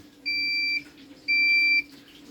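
A washing machine's universal control board sounds two clear, steady electronic beeps at the end of a cycle, each about half a second long and separated by a short gap, heard up close over a faint background hum.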